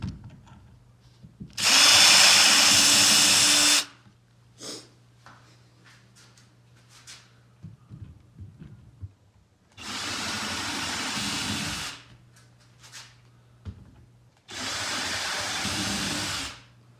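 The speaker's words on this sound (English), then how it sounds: "now that I have a bigger hole drilled for somewhat of a countersink" Three bursts of a power drill boring countersink holes into wooden chair legs, each running a couple of seconds, with quiet handling and light clatter between them, close by.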